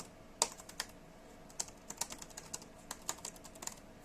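Typing on a Raspberry Pi 400's built-in keyboard: a run of light, irregular key clicks, close and fairly quiet, with no voices.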